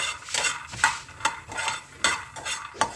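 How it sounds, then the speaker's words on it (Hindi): Peanuts dry-roasting in a pan with no oil, stirred so the nuts rattle and scrape against the metal in regular bursts roughly every half second, close and clear with no talk. "मैं नॉर्मल मूंगफली को बस भून रही हूँ विदाउट ऑयल"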